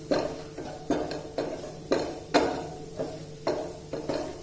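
Rhythmic scraping and clinking of a spoon stirring all-purpose flour (maida) into a white sauce in a pan for cheesy spaghetti, about ten regular strokes close up, with no talking.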